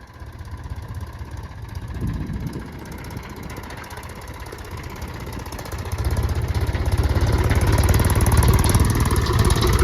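A tractor engine runs steadily and then revs up under the accelerator, its low mechanical drone growing louder and rougher through the second half.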